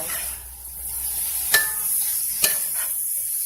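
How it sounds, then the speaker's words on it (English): Zucchini and walnut pasta is stirred in a hot pan: a soft continuous sizzle with two sharp utensil clicks against the pan, close by and alone. "just mix it in there"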